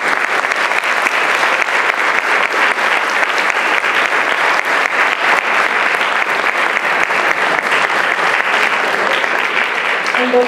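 Steady crowd applause fills a school ceremony honoring students for their programs and their third-place volleyball finish. The clapping is loud and dense, and it holds evenly for the full length without stopping.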